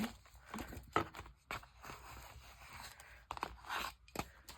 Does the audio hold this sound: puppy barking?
no